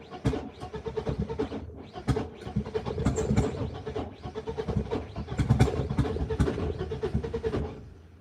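BMW E36 with an M42 engine cranking over repeatedly and failing to start, giving bursts of rhythmic starter churning separated by short pauses, close and fairly loud with no talking.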